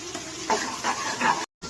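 Onion, tomato and green chillies stir-frying in a hot Indian tempering with curry leaves, giving a steady close sizzle with a few louder stirring bursts and a brief silent gap near the end.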